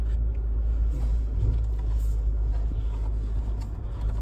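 Maserati GTS engine idling as it warms up, a deep steady rumble close by and quite loud, with slight swells in level rather than distinct sharp revs.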